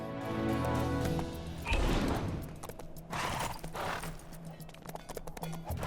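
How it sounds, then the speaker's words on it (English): Horse hooves clip-clop in the Old West level of the LEGO Marvel Super Heroes 2 video game, a steady trotting patter over game sound effects and background music. "Soon as you find a horse, just saddle up and ride it on back here to me."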